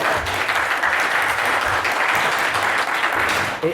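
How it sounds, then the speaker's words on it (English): Round of applause from the audience at a Star Wars original trilogy sci-fi convention panel, dense steady clapping held at full strength throughout, close and loud. "Give him a round of applause."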